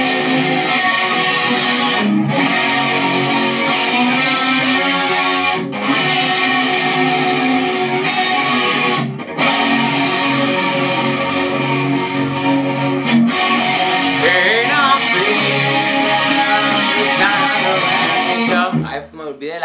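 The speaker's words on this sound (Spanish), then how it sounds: "El Boss DS1, el distorsión regular, el anaranjadito." An electric guitar, a Fender Jaguar with a Seymour Duncan JB pickup, plays through a Boss DS-1 distortion pedal. It gives a thick, saturated, sustained wall of crunchy chords, loud and continuous for nearly twenty seconds, with only brief dips between phrases.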